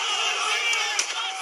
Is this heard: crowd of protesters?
yes